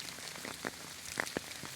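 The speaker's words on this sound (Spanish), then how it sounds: "les quería compartir el hermoso sonido de la lluvia" Steady rain from a storm falls at dawn in the countryside, a soft even hiss with scattered drop taps on a surface, fairly faint and without any voices.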